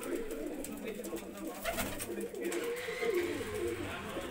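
Pigeons coo softly and repeatedly close by, their low throaty calls mixing with light rustling and a voice in the background.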